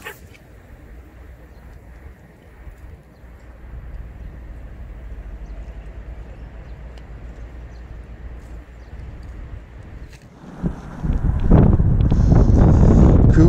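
Strong wind buffets the microphone at Sokcho harbour during shore casting for flounder, a steady low roar that surges much louder and rougher near the end, with no talking.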